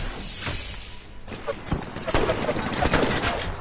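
Rapid bursts of gunfire in a shooter video game, loud and dense, several volleys overlapping through the moment with a crash-like edge.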